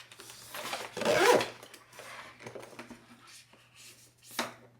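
A zipper with a long pull tab on an AER Day Sling X-PAC bag is drawn open and closed, a few short scratchy rasps close by, the loudest early, with quieter rustles between.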